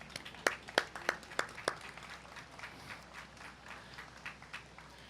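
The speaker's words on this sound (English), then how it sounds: "Let's give them a nice round of applause" Outdoor July 4th patriotic program crowd applauding a community concert band: a handful of sharp, distinct claps up front that soon thin into softer, scattered clapping, fairly distant and modest in volume.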